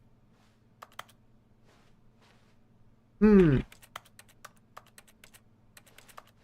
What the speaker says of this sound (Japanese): なんかキーを押すとキーボードの音がするんだけどね。